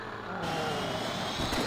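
A car engine roars steadily at high revs in a zombie-smashing driving video game, with a sustained broadband drone that rises slightly near the end and no audible talk.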